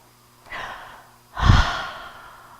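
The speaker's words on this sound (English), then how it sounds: "Take a nice deep breath." Close, audible breathing: a softer inhale followed by a fuller, deeper breath with a noisy rush of air, with no talk.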